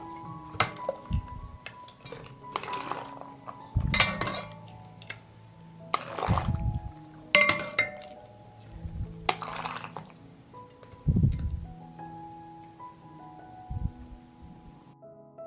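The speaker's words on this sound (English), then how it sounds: "I immediately pour this hot dressing into the jars." Hot vinegar dressing is poured from a pot into jars packed with fresh tomatoes. Liquid trickles and drips, and glass clinks and knocks now and then, fairly faint and close by with quiet gaps between.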